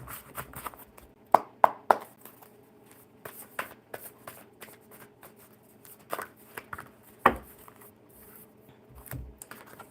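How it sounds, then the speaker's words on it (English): Playing cards shuffled by hand at a table during a relaxed live chat, a run of sharp riffling bursts and soft flicks in short irregular clusters, close and fairly quiet with no talk. "One more shuffle"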